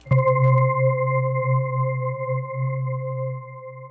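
A sustained synthesizer pad with an ensemble effect, a steady low fundamental with bright harmonics, held for several seconds after a short attack, loud and alone.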